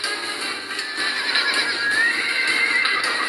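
Horses whinny loudly in the video game Medieval 2, a high rising neigh standing out over hooves clip-clopping and a busy battle soundscape.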